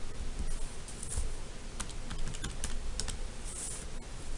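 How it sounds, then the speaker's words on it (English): Keystrokes on a computer keyboard clatter in quick, uneven bursts, close and steady over a low room hum, with no voice. "am I typing these things in wrong?"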